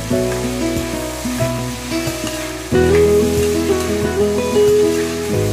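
Potatoes with turmeric sizzle steadily in a pan under music, with the frying hiss staying constant as they are stirred.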